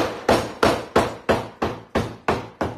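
Nine heavy thuds of a wooden rolling pin striking dough at a steady, even pace, each a sharp thump with a short decay, close by and with no talking.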